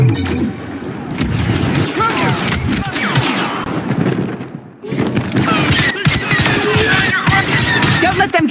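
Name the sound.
blaster fire in the video game Star Wars Battlefront 2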